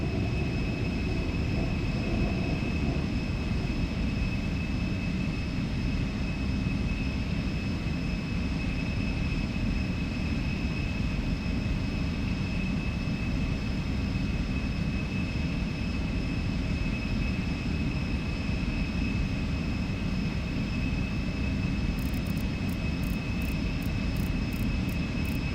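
Embraer E175 jet engines at takeoff in X-Plane 12, a loud constant engine roar with sustained whining tones, holding steady throughout, with no voices.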